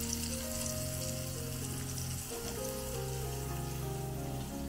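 Thin pieces of food fry in hot oil with a steady, loud crackling sizzle that runs unbroken from start to finish, while low tonal background music plays underneath.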